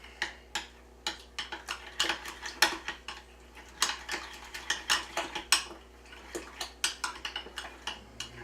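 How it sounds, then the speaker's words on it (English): A spoon clinks and scrapes around a bowl while ingredients, including dill weed, are mixed together, giving a close, steady series of sharp taps and knocks with no talking. "And mix it all up. You want to mix it up really good."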